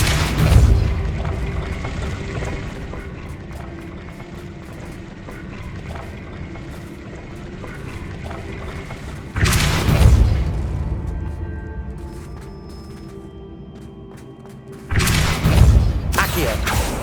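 In the Hogwarts Legacy video game, a Depulso force spell lets off booming blasts. Three sharp thuds land several seconds apart over a continuous game backdrop.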